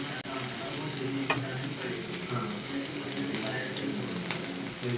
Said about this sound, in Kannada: ಸ್ವಲ್ಪ ಎಣ್ಣೆ ಬಿಸಿಯಾಗಿ ಆಮೇಲೆ ಫಿಶ್ ಬಿಡಬೇಕು.